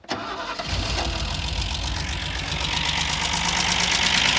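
A 1977 Ford Granada coupe that sat abandoned for 20 years cranks and fires up, a brief starter whir that catches into a loud, steady, slightly rough idle rumble, close and with no talking.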